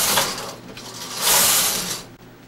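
Carriage of a studio electronic knitting machine sliding across the needle bed, with whooshing mechanical swishes and clicks rising and falling in two passes, close and unaccompanied.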